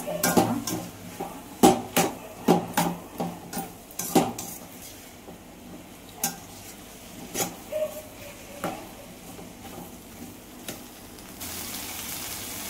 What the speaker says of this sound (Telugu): బెండకాయలు వేసేసుకొని ఇట్లా బాగా ఇలా కలిపేసుకుంటున్నాను.